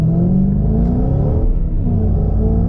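A Ford Shelby GT500 with a TR6060 manual gearbox revs hard and loud through a short shift, a steady close engine roar with a slight dip in pitch at the gear change, no voices.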